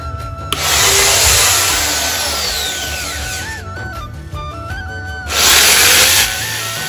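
A power drill whines close and loud as a mirror is mounted, running in long bursts with pitch sweeps as it speeds up and slows, then a short pause before another strong burst; no talking.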